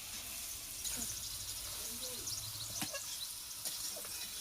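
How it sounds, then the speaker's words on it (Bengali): Garlic and chicken meat fry in a pan for a home chicken curry, a steady faint hiss with a few small pops and clinks, a voice speaking quietly at times. "এর সঙ্গে ভাজবো রসুনটা, মাংস কষা হয়ে যাবে।"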